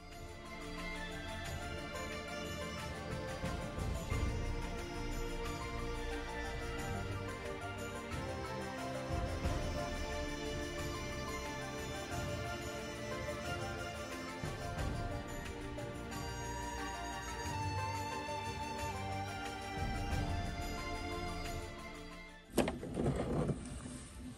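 A sewing machine stitches fabric for a folded flower placemat, its motor whirring steadily for more than twenty seconds before a short louder burst near the end.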